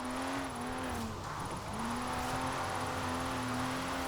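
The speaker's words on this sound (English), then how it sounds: "This is all just power sliding and a tiny bit of drifting" A car power sliding and drifting in Forza Horizon 4, a steady droning engine hum with a sustained tone and faint tyre rustle, holding level throughout without any talk.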